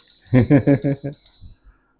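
A small, heavy pure brass bell rung in quick succession, five or six bright metallic dings with a steady high ring, then fading out with a couple of faint soft knocks.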